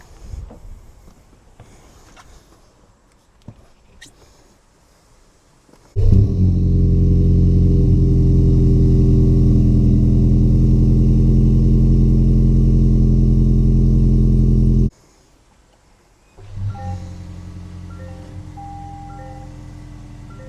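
A 2025 Toyota 4Runner TRD Pro on a drive, its engine starting with a sudden loud roar that holds a steady, strong drone for about nine seconds before cutting off, then quieter running with faint whine after.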